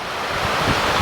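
Sea waves wash onto a deserted beach near Ratnagiri in a steady, close surf roar mixed with wind buffeting the microphone.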